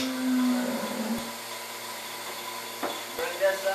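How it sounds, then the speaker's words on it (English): A vacuum pump for milking camels runs with a steady mid-pitched hum, a higher tone near the start, and occasional knocks and clatter over it. "we go ahead and plug in the vacuum pump"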